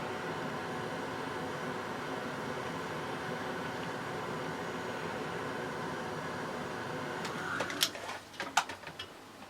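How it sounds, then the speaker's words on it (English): A heat gun held close to embossing powder blows a steady, even whooshing roar, with a few sharp clicks and knocks near the end. "I have it within an inch of the end of the heat gun. It's beginning to melt around the edges."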